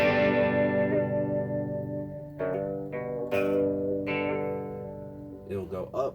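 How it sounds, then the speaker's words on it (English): A guitar effects pedal makes a tape-echo-style glitch. Sustained distorted guitar notes are cut by quick stuttering, pitch-shifting repeats, with brief sharp chops and warbles near the end. "It's almost like a tape echo kind of glitch."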